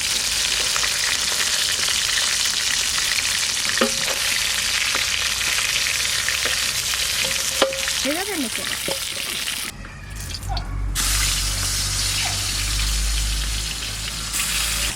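Fish pieces fry in hot oil, a loud continuous sizzle with occasional stirring clinks and a short dip in the hiss partway through as the pieces are moved; no speech.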